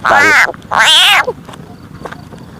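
A frog caught in a trap set for frogs in cool-season fields gives two loud, drawn-out croaking calls, close by, followed by quieter rustling and background noise.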